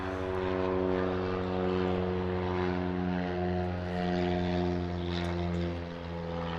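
An Edge 360 aerobatic plane, a four-cylinder experimental American homebuilt, takes off with a loud, steady propeller engine roar that swells and dips slightly, heard alone without voices.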